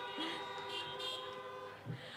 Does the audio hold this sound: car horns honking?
yes